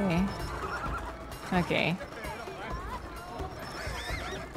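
Horses in a race within the video game It Takes Two neigh and whinny loudly at close range, with a hoof clip-clop rhythm and a voice speaking over the racing sounds.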